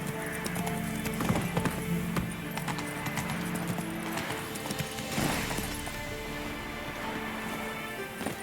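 Roach, the horse in the video game The Witcher 3, galloping with a continuous quick clip-clop of hooves at moderate distance, occasional louder hoof strikes and a faint whinny, with no talk.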